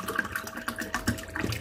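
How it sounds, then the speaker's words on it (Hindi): Water poured from a bottle into a glass, producing a steady close trickle and splash with a slight rise as the glass fills, set against a faint background hum. "ये पानी जो है इसमें डालते हैं गिलास में"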